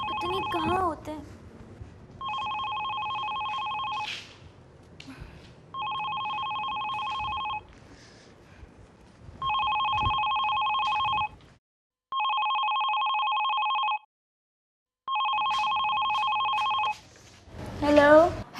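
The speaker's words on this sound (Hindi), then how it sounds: "फोन उठा ले।" A telephone rings in repeated two-tone bursts, five rings with short pauses between, with faint background noise and a voice briefly at the end.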